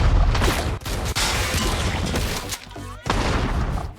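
Gunfire from a woman shooting in a Terminator film scene, loud sustained bursts filling the clip with dense blasts and crashes over a movie soundtrack, with a brief lull near the end before firing resumes.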